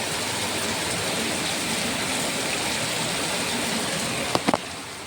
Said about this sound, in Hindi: बहुत तेज अचानक से आई है बारिश एकदम से।